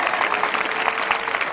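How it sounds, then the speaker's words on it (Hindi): A congregation claps for the glory of the Lord at a Sunday evening prayer meeting, a loud and continuous roar of many hands filling the room, with some voices mixed in. "एक ताली खुदाबंद की महिमा के लिए बजेगी"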